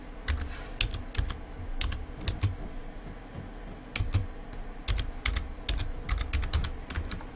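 Rapid typing on a computer keyboard during a Blender modeling session, with close, crisp key clicks in irregular bursts and short pauses, no talking.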